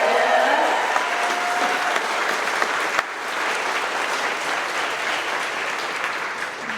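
Applause fills a room at a trucking company's monthly celebration, a loud, dense, steady crowd clapping for the drivers that carries on throughout and eases only slightly partway through.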